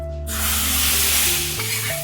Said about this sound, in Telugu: పైన ఇప్పుడు కొద్దిగా నేతిలో కారం వేసి పోపు ఇలా వేసుకుందాం